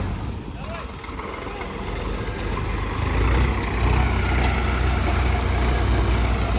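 Tractor engine labouring under heavy load at a tractor pulling contest between a Swaraj 855 and a Mahindra 585, a loud steady drone that swells after a few seconds while people talk over it.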